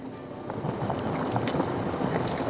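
Wind gusting across North Caribou Lake on a cold, rainy fall day out in a fishing boat, a steady rushing buffet close to the microphone with no talk.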